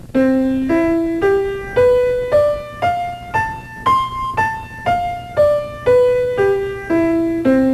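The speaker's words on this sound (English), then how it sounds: "That's vertical, that's a chord, and that's called arpeggios." A single instrument plays an arpeggio climbing to the ninth and back down, crisp separate notes in a steady rhythm, close and unaccompanied.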